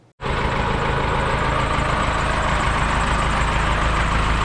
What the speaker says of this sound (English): 1974 Ford Bronco, 4BT Cummins diesel swap, 5-speed manual